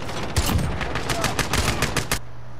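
Rapid bursts of automatic gunfire in a multiplayer shooter video game, a dense string of loud, sharp shots closely spaced across the clip, ending abruptly.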